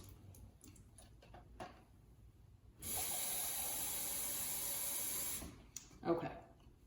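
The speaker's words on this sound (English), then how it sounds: "You're gonna fill 3 of them with water." Water runs steadily from a tap for a few seconds, a bright continuous rush as glasses are filled about halfway, with brief handling clinks and movement before and after.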